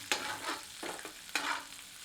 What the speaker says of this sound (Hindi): इसे मध्यम आंच पर तब तक भूनते हैं जब तक कि प्याज थोड़ी पारदर्शी नहीं हो जाती।